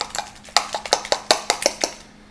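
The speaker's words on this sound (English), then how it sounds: "So stir quickly." A spoon beats thick, sticky dough fast in a bowl, giving about a dozen quick, bright clinks and knocks in an even rhythm that stop after two seconds.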